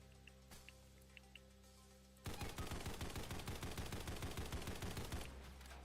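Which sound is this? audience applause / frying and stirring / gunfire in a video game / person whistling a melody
gunfire in a video game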